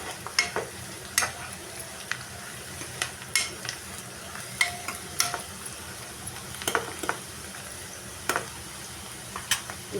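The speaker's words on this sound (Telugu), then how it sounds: "జీడిపప్పు అయితే వేగింది లైట్గా." Cashews fry lightly in a pan for a Sunday mutton and cashew curry, giving a steady hiss of hot oil broken by sharp scrapes and clicks as a spoon stirs them at irregular intervals.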